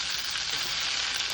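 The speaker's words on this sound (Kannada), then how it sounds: "ಒಂದು 2 ನಿಮಿಷ, 2ರಿಂದ 3 ನಿಮಿಷ ಸುಮ್ಮನೆ ಒಂದು ಸ್ವಲ್ಪ ಎಣ್ಣೆಲಿ ಫ್ರೈ ಮಾಡಿ ಅಷ್ಟೇ" Vegetables frying in oil for veg pulav make a loud, dense, continuous sizzle, close up and steady.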